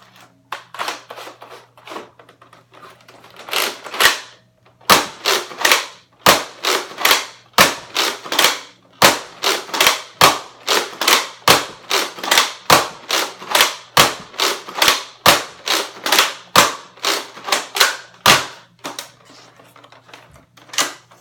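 A Nerf AccuStrike Mega Thunderhawk, a long clip-fed sniper blaster, fires a fast string of sharp snapping shots, roughly thirty in an uneven rhythm, loud and close with brief pauses between bursts.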